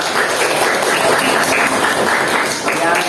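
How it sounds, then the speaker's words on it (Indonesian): A classroom of students applauds together during a lesson, dense steady clapping filling the room at close range, with some voices mixed in. "Tepuk tangan."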